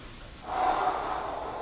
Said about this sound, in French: j'inspire